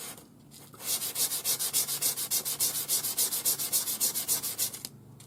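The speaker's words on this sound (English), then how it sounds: "I'm using 400 grade wet or dry sandpaper on my bench" Rhythmic back-and-forth sanding of a turquoise nugget ring on 400 grit wet-or-dry sandpaper laid on a workbench, close and steady, with about twenty even gritty strokes and no talking.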